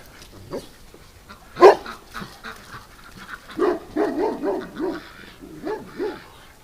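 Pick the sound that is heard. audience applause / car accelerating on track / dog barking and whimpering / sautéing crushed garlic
dog barking and whimpering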